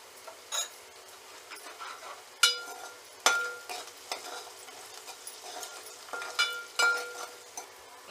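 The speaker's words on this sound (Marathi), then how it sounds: "आणि कांदा छानपैकी शॅलो फ्राय करून घ्यायचा आहे." Onion shallow frying in a pan for a drumstick-leaf (shevga) bhaji, with soft sizzling and intermittent stirring scrapes and clinks, moderately close and fairly quiet, no talk.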